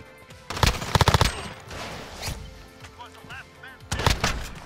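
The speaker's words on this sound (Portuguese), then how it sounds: "Nossa, quase que eu tomei um tiro." Bursts of rapid gunfire in a shooting video game: a quick automatic volley, a lone shot, then another rattling burst, with a player's voice talking between the shots.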